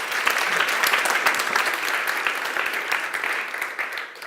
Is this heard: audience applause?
yes